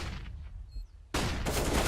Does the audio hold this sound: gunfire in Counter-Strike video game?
yes